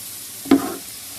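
Onions frying in a pot toward golden for Lahori nihari, with a soft steady background hiss and one brief sharp stir-and-sizzle burst near the middle, up close.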